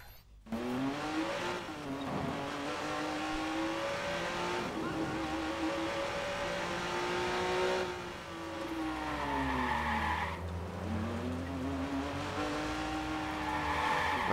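A car in the video game Watch Dogs drives and accelerates with rising and falling engine tones, then skids with tire squeal partway through; the sound is loud and continuous throughout, with no talking.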